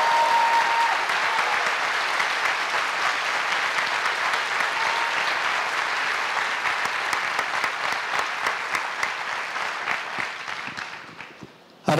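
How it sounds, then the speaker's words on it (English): A school convocation crowd gives a long, warm round of applause. Dense, even clapping fills nearly twelve seconds before it thins into scattered claps and stops. "Folks, would you please give them a warm round of applause."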